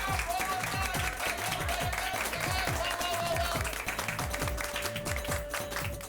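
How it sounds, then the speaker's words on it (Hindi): A studio audience applauds in a scene from the Hindi TV sitcom Taarak Mehta Ka Ooltah Chashmah, a steady, dense wash of clapping that runs through the whole stretch, with a rhythmic tapping pattern and a faint tone underneath. "इस बात पर चाचा जी के लिए जोरदार तालियां हो जाए।"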